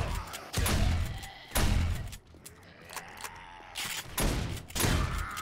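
Gunfire in the zombie survival game 7 Days to Die: several loud, close shots or short bursts with heavy booming impacts and ringing decays, spaced about a second apart with quieter stretches between.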